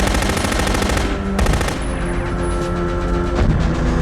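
Loud continuous gunfire, a dense rattle of automatic shots with heavy booming impacts, close and sustained throughout, from an action film scene.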